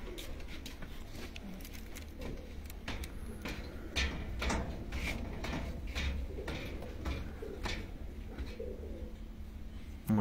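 Soft, repeated cooing from breeding pigeons kept on a rooftop loft in Punjab, faint and slightly distant over a low background hum, with scattered light clicks and taps.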